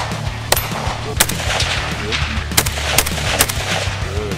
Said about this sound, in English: And we're gonna shoot some guns.